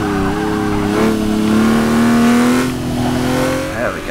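A car in Forza Motorsport 6 accelerates hard around Watkins Glen, its loud engine note climbing steadily in pitch across several seconds before a brief shift near the end, with faint tyre noise underneath.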